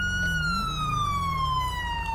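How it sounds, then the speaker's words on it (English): A police siren in the video game GTA 5 wails in a long, steady falling tone over a low vehicle engine rumble, loud and close, with no voices. "Let me go ahead and keep my sirens on."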